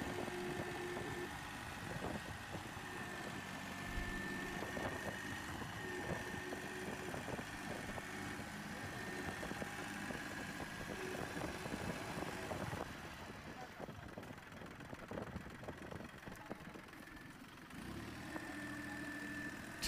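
A modern six-wheeled tractor's engine rumbles steadily while it crawls up rocks, a mid-pitched drone that carries on for about twenty seconds and dips briefly toward the end, heard beneath someone talking.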